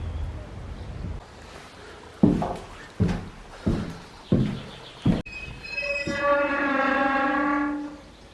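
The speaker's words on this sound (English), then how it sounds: "So it sounds like the wind is blowing through the structure and it sings" Wind moving through a tall lookout tower structure in an Estonian forest, heard as a series of loud thumping creaks followed by a sustained, wavering tonal whine.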